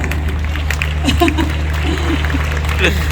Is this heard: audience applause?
yes